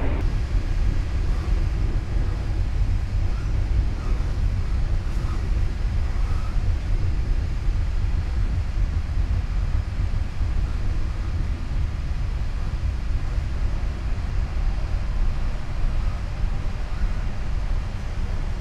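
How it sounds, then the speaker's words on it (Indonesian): On the Bangunkarta executive train with the door open, a generator's drone mixes with the bogies' rumble into a steady, loud, broadband roar that stays constant throughout, with no speech. "Suara genset masuk, suara dari bogi juga masuk"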